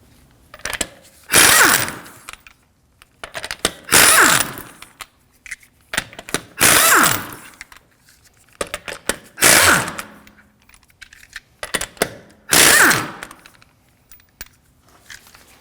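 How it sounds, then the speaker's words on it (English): A hand ratchet fitted with a 19mm socket loosening the wheel lug nuts on a 2013-2015 Subaru XV Crosstrek, heard as five loud, close bursts of rapid clicking separated by short pauses. "To remove the wheels, we're going to be using a 19mm socket."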